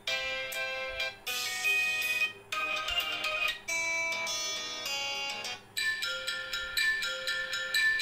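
Ringtone on an Infinix Smart 5 phone, a bright synthetic melody of bell-like tones playing loudly and continuously in repeated phrases with brief gaps, no voices.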